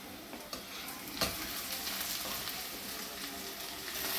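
Onions frying in oil for a ginger chicken curry, a loud, continuous close-up sizzle with a faint scrape of stirring near the start and no voices.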